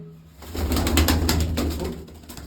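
Pigeons coo softly, with wing flutters and rustling mixed in, close by.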